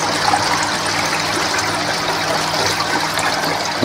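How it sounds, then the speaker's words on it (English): Koi pond filter with moving beds bubbling away in its bays, a steady, continuous rush of churning water heard close up with no voices. "See the last of the moving beds bubbling away there"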